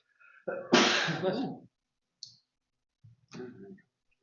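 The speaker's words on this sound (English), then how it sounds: "I'm gonna sneeze." A single sharp sneeze with a breathy intake, followed by a few faint sniffs and a short mumble, close to the mic.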